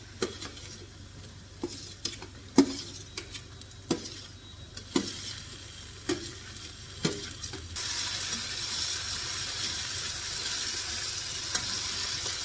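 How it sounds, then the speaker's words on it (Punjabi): Tomatoes for baingan bharta stirred in a hot pan, with a spoon scraping and knocking the pan in regular strokes over a soft sizzle that grows brighter and steadier toward the end, close and fairly quiet. "ਟਮਾਟਰਾਂ ਨੂੰ ਆਪਾਂ ਸੇਕ ਲਵਾਵਾਂਗੇ"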